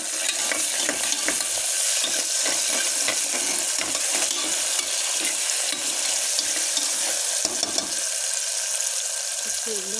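Onion, garlic, tomato and salt are stirred in a hot pan, giving a close, continuous sizzle broken by repeated scraping strokes of a spoon, with brief quieter moments between stirs.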